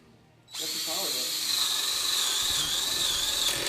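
A DeWalt drill in hammer mode kicks in abruptly after a quiet moment, then runs steadily up close with a loud, high-pitched mechanical whine.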